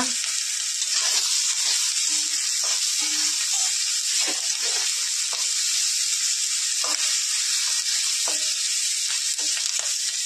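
Bay leaves and chillies hitting hot oil in a pan while cooking a Bengali prawn and greens dish, giving a continuous bright sizzle with occasional stirring scrapes and no talk.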